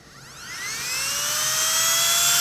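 A Flextail Zero Pump, a small backpacking air pump, spins up into a loud, high-pitched whine that climbs in pitch and then holds steady and close, with no voices over it.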